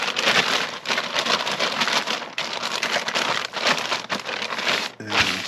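A plastic bag crinkles and rustles continuously as an RC car tire is slid back inside, a dense close crackling texture with brief pauses.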